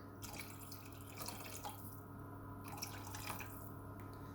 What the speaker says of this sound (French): il faut couvrir donc d'eau, comme ça, à peu près 1 litre d'eau